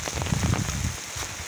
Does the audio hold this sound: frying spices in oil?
no